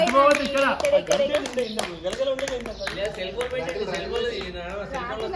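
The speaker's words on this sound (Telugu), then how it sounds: "చప్పట్లు కొట్టాడు." A baby claps small hands at an annaprashan (first rice-feeding) ceremony: quick, light, uneven pats heard close by beneath lively overlapping adult chatter.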